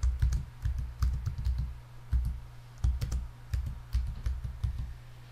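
Fingers type a password on a computer keyboard in quick clusters of crisp, close key clicks separated by brief pauses, with no talking.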